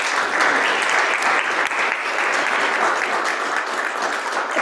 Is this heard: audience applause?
yes